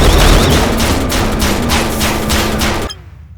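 Turrets firing in the People Playground video game, a loud, rapid, steady burst of repeated shots that stops abruptly just before the end and leaves near silence.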